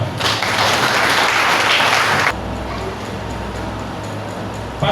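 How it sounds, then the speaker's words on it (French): A crowd of teachers at a political rally in Akpro-Missérété, Benin, bursts into loud, dense applause that cuts off abruptly midway, leaving a steady low background hum. "Je demande encore d'applaudir beaucoup pour ça."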